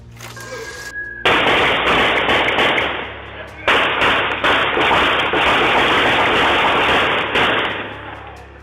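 A sustained, dense burst of rapid gunfire crackles loudly for several seconds after a brief quieter moment, with only short gaps in the barrage, during a restaurant robbery.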